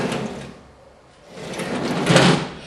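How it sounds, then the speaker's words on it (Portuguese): A door being closed: a scraping sweep fades, then a longer, louder rasping push builds to a peak, close and without talk. "Ouça o som do fechar da porta."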